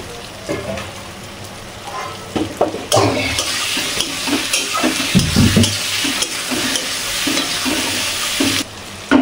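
Potatoes sauté in spiced oil and are stirred in a pot, with loud close sizzling broken by repeated scraping and clattering strokes of a spoon against the pan.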